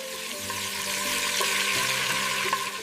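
Meat going into a pot for Somali bariis iskukaris, with a loud, steady sizzle running throughout and a few faint clinks of utensils.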